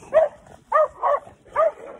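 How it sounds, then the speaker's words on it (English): A big dog barks in four deep, separate woofs, fairly close and loud, with no talk over them. "damn, that dog big as hell."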